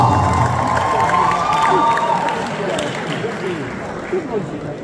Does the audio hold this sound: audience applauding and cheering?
yes